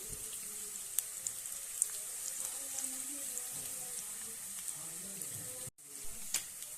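Avalakki (poha) frying in a pan for North Karnataka chivda, a steady close hiss and sizzle running without pause, with faint scattered clicks of stirring and a brief dropout near the end.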